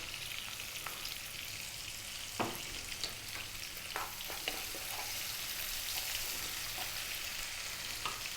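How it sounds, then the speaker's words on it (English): Chopped onion fries with salt in a pan for chicken curry, giving a steady, even sizzle throughout with occasional soft stirring scrapes and spatula taps. "And then the onion. To that I'm going to add some salt."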